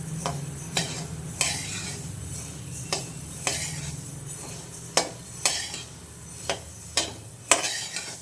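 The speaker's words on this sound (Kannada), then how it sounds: "ಒಂದು ಮೀಡಿಯಮ್ ಮೀಡಿಯಮಾಗಿ ಹುರ್ಕೊಳ್ಳಿ ಸಾಕು ಅದೊಂಥರ ಸ್ಮೆಲ್ ಬರೋಕ್ಕೆ ಶುರು ಆಗುತ್ತೆ" Spices for sambar powder dry-roast in a pan while a utensil scrapes and taps against the metal at a slow, uneven rhythm, a soft sizzle running underneath and no voices.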